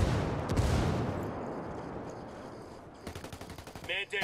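Gunfire in Ghost Recon Wildlands: a heavy wash of shooting gives way to a rapid, evenly spaced automatic burst near the end, with a voice briefly cutting in at the close.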